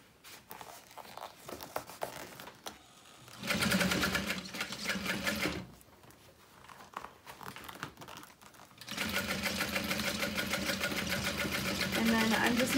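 A sewing machine stitching a handbag lining runs in two steady loud bursts of rapid mechanical whirring, with fabric rustling and handling noises between them, heard up close.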